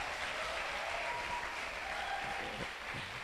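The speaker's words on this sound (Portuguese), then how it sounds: "Você não pode dar um aplauso para os seus pastores aqui, amém?" Church congregation applauding its pastors: steady, dense clapping from a large crowd throughout, fairly distant, with faint voices underneath.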